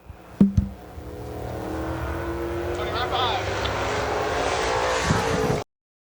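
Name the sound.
super late model race cars on a dirt speedway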